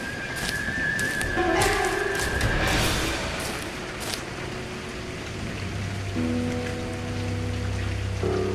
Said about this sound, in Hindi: बारिश की आवाज से मेरी आंख खुल गई